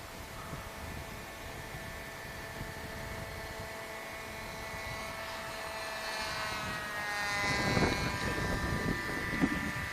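An RC AeroSport 103 ultralight model airplane drones overhead in calm weather, a continuous buzzing motor tone that swells slightly louder toward the end, heard at a distance with breezy background noise.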